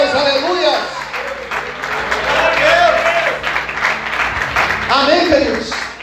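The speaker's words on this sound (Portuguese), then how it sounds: "Você pode aplaudir e exaltar a esse Deus" A church congregation applauds during a sermon, its clapping blending with crowd voices and a musical tone, the sound swelling and dipping across several seconds.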